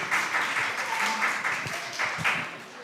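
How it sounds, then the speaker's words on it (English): An audience applauds readers at a national reading competition, steady moderate clapping with some voices mixed in, sustained throughout and at a middling distance. "Let's give all our readers a round of applause"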